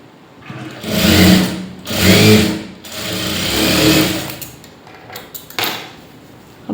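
Sewing machine stitching a cotton lining blouse, running in three loud sustained bursts with short pauses between, then lighter handling clicks and taps toward the end.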